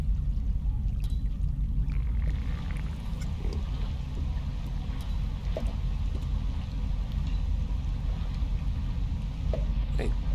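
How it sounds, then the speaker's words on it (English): Steady heavy rain pours underground in the video game Rain World, a constant dense wash of falling water that is loud and unbroken throughout. "why is it raining here underground?"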